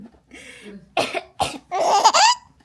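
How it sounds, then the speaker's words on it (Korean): A woman coughs several times in short, sharp bursts, close and alone, the last cough longer and rougher with a raspy, voiced edge. "엄마 기침 소리 왜 이렇게 좋아해?"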